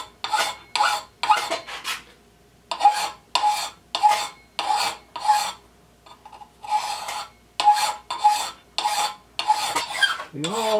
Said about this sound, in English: We want the whole edge to look like that while we're filing.